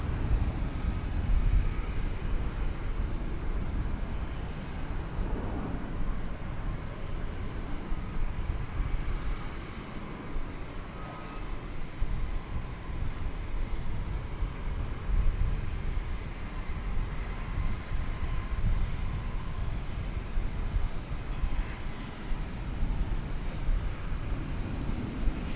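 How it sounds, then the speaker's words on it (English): An Airbus A319 airliner, flight 336, rumbles at a distance at DFW Airport as a faint, steady broadband roar, with insects chirping softly underneath. "It's an Airbus A319."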